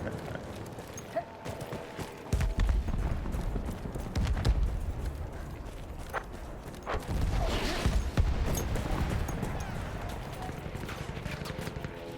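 Horse hooves clip-clop in the Battlefield 1 video game, galloping amid bursts of distant gunfire and booms, with a voice speaking over the action.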